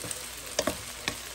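Soaked sago pearls are stirred in a frying pan, giving a few quick scraping clicks over a soft, steady sizzle.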